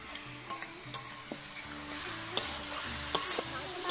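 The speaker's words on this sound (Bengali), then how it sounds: "আর আমি যে বেটে ভেজে রেখেছিলাম মশলাটা, সেটা আমি দিয়ে দিচ্ছি। এটা দিয়ে আমি ভালো করে কষিয়ে নিব" Ground spices fry and get stirred in a pan for village-style chicken, with a steady close sizzle and the spoon scraping and knocking against the pan in a loose rhythm.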